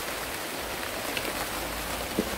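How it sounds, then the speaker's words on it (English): Rain falls outdoors around a countryside cooking spot, a steady dense patter of drops on surfaces, close and even throughout. "People can hear the rain come from it."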